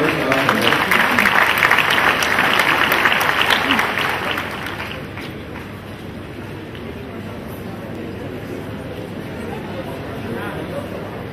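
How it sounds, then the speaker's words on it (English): Audience at an induction ceremony clapping for a prize winner's parents, dense applause for about four seconds that then fades into murmuring chatter. "Please clap for them. Clap for them."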